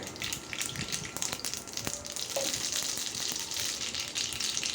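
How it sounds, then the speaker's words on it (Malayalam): Mustard seeds fry in about two spoons of hot oil in a pan on a Kerala stove, a steady close sizzle scattered with sharp little pops and crackles. "ഇപ്പോൾ കടുക് വറക്കാം"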